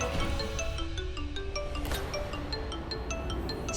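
A phone rings in a domestic drama scene, with a repeating electronic ringtone melody of short tonal notes sounding moderately over a soft background.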